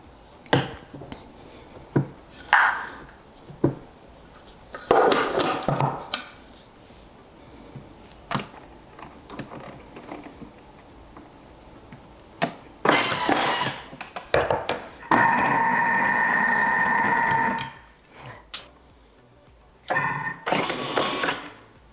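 A Thermomix mixes ricotta gnocchi dough, with scattered clicks, knocks and beeps from the machine and a steady whirring motor run of a few seconds, close by.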